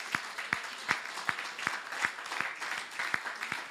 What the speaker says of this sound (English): Come on, clap for Jesus.